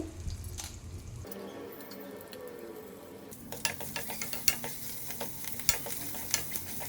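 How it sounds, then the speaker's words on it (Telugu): Urad dal and two dried red chillies, added after cumin and mustard seeds, fry in hot oil: a dense sizzle that swells partway through, followed by a run of rhythmic spatula taps and scrapes against the pan. "అలానే కొంచెం మినపప్పు వేస్తున్నాను నేను అదేవిధంగా కొంచెం రెండు ఎండుమిర్చిలు"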